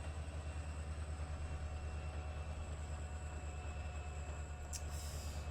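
A freight train of autoracks rolls along in Trainz Simulator 3, a steady low rumble and hum of wheels and engine running continuously at moderate level, with a brief click near the end.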